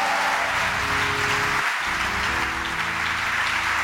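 Congregation in a church applauding and cheering together in a sustained, dense wash of clapping, loud and continuous with a brief dip partway through.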